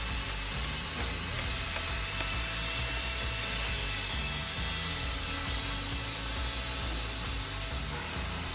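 Construction site ambience in Farming Simulator 22 on the Brzozówka map, a steady loud rasping saw with a droning machine hum underneath, continuous and unbroken.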